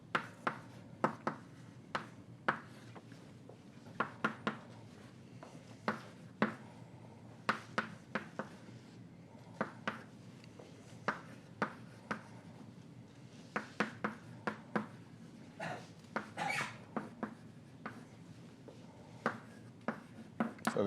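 Chalk or marker tapping and scratching on a board during a physics lecture, a long run of quick, faint strokes in irregular bursts, quiet and without talking.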